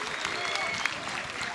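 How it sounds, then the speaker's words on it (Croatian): Football crowd in a stadium at a Croatian Cup round-of-16 match, Bjelovar against Lokomotiva, clapping in a brief burst of applause as a corner kick comes, with a commentator's voice over it. "evo nam i pljeska"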